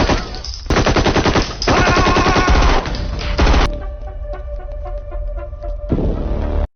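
Bursts of rapid automatic gunfire in an Indian action film, loud and close, with dense rattling volleys broken by short pauses and a ringing metallic tone under the later shots, no voices.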